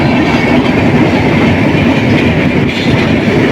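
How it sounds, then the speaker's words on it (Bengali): A train rolls past near floodwater-covered fields, a loud, close, steady rumble of wheels on rail with a rhythmic clatter throughout, no voices. "আর ট্রেন যাচ্ছে"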